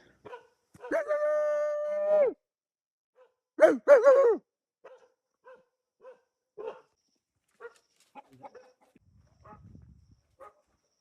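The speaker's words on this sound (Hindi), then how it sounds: "ये कुत्ता भौंक रहा है।" A dog barks several times near a gate in a Magar tribal village in the hills of Nepal, starting with a long whining howl and then shorter sharp barks, fairly close, with a few soft sounds and faint voices in between.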